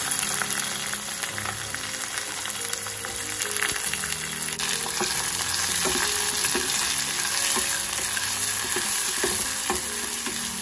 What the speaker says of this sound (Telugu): ఆనియన్స్ బ్రౌన్ కలర్ వచ్చేంత వరకు వేగనివ్వాలండి